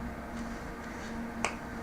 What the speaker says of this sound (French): Claquement de doigts